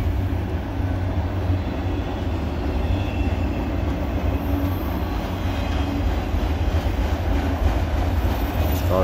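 A freight train with a green Burlington Northern car rolls past at a CSX line, making a continuous, heavy low rumble with steady wheel and car noise. It is close and loud throughout, and no one speaks.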